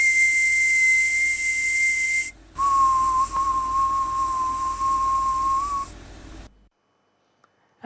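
Teeth whistling at a whistling workshop: a thin, pure steady tone held for a couple of seconds, a brief break, then a lower sustained note, ending in silence.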